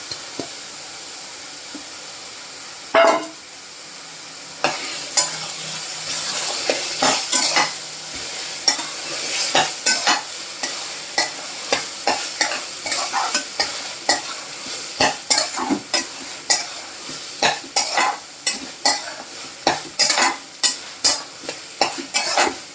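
Mashed roasted eggplant is stirred into chili powder, salt, turmeric and chopped coriander in a hot pan: a loud, close sizzle under repeated spatula scrapes and taps that grow quicker and more regular near the end.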